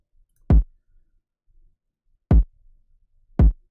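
Three punchy electronic kick drum hits from a beat, spaced unevenly with near silence between them, dry and close.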